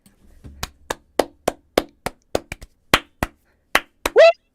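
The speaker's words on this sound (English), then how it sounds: "Let's clap it in when you're ready." Roughly a dozen sharp hand claps ring out close and dry in an uneven rhythm, struck to sync a podcast recording, with a short vocal whoop near the end.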